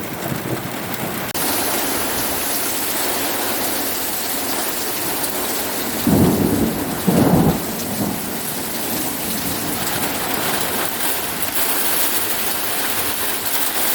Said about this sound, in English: it's pouring down rain again